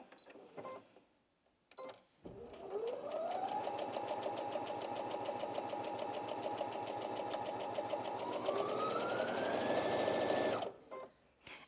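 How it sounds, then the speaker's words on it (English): A Brother Inventio NV1850Q sewing machine starts up, runs at a steady rapid stitching pace for several seconds, rises in speed near the end, then stops abruptly, heard clearly and alone. "I'm going to start sewing."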